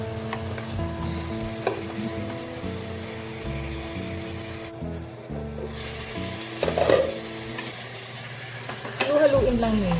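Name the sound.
stirring chicken tinola soup in a pot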